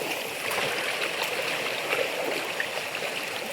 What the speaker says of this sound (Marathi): पाणी नदीला खूप आहे, फोर्समध्ये आहे